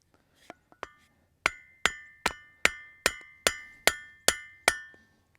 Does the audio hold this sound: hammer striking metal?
yes